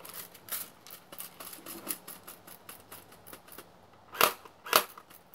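Airsoft gun shooting BB pellets, a series of sharp light snaps at an irregular pace, with two louder close shots near the end.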